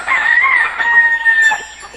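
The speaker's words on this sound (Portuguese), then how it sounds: "O galo cantou." A rooster crows once, close and loud, a long wavering call that rises, holds and tails off over a couple of seconds with no other sounds around it.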